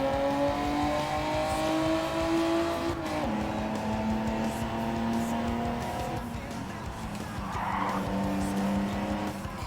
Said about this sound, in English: the sounds of engines sort of overshadow it